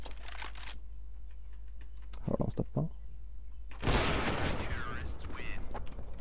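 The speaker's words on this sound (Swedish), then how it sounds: "Synd bara att jag missade skotten." Gunfire from a competitive multiplayer video game match: a quick cluster of sharp shots, then a louder sustained burst of firing, all fairly faint.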